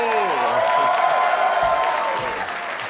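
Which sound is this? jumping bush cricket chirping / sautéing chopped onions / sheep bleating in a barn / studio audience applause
studio audience applause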